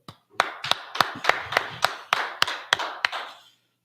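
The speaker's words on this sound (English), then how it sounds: "let's clap it up" A small group clapping in unison, about a dozen sharp, evenly spaced claps in a steady rhythm, fairly close and dry, ending in silence.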